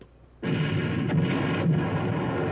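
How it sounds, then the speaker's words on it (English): A staged bomb explosion in a comedy scene bursts in suddenly and stays loud, a sustained rumbling roar with a couple of swells, heard alone without talk. "That's a real explosion."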